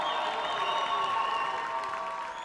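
A crowd at a live concert in Guadeloupe applauds and cheers, a dense wash of clapping that carries on under a sustained tonal hum from the venue.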